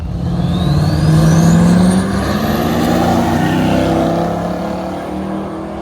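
A slammed diesel Chevrolet C10 truck launches down a drag strip, a loud sustained engine roar building and holding for several seconds, with a high rising whine above it.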